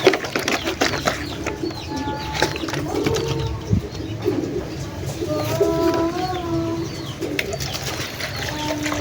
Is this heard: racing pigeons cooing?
yes